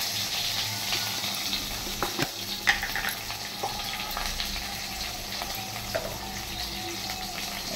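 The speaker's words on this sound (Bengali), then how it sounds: "এই আমি পটলগুলো একটু শুকনো হয়ে গেছিলো, তাই ভেজে নিচ্ছি।" Pointed gourd frying in a pan of oil for a home Bengali lunch, a steady close sizzle with occasional scrapes and stirring clicks, no voices.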